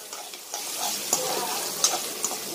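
Onions, mustard seeds and fennel fry in oil in a pan, giving a continuous close sizzle with a few sharp pops and light stirring scrapes.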